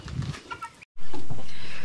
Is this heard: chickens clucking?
yes